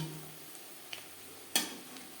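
Egg pakora frying in hot oil, a faint steady sizzle broken by a couple of sharp clinks from a utensil against the pan.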